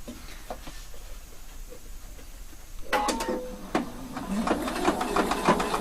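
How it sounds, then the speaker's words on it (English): Sewing machine stitching the hemline of a lined skirt with a slit, quiet at first, then a close mechanical whirring run with a pause in between and faint clicks. "right now I just want to stitch my hemline"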